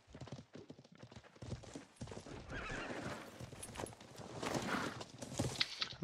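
Horse hooves clip-clopping and a horse neighing in a video game, layered hoof steps and whinnies, fairly faint and continuous.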